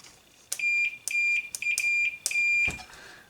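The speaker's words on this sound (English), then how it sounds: "If we just take our leads here and touch them together, you can hear" A digital multimeter in continuity mode, its test leads touched together while working on an arcade monitor chassis, gives several short, clear electronic beeps at an uneven rhythm, loud and close with no talking.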